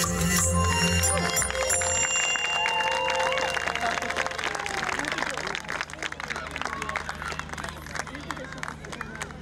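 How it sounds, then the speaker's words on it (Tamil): An audience at the Mannar Welfare Association UK Sports Festival 2025 applauds after a dance school performance, with a burst of crackling clapping and crowd murmur following a brief musical ending. "உங்கள் அன்பான கரகோஷங்கள்"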